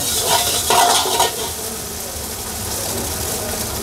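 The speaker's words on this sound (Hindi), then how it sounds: "एग को अच्छे से फ्राई कर लेंगे।" Egg frying in a pan for schezwan noodles makes a loud, hissing sizzle, with a few louder bursts early on before it settles into a steady crackle.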